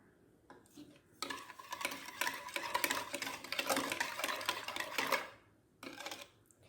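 Chocolate mousse cake mixture is stirred briskly in a bowl, a close, continuous scraping and whisking rattle that runs for about four seconds and then stops, followed by a short final burst.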